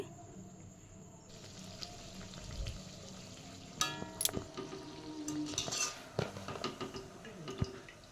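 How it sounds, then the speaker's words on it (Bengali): Sabudana luchi deep-frying in oil, a quiet sizzle broken by metallic clinks of a slotted spoon and pan, with clatters and scrapes growing busier midway. "বাকি লুচিগুলো ঠিক একইভাবেই আমি ভেজে নিচ্ছি"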